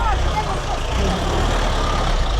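A refuse truck rumbles on a back street in Changshu, China, a steady low engine drone close by with voices mixed in.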